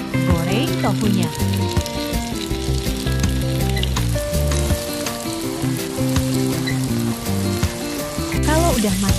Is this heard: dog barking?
no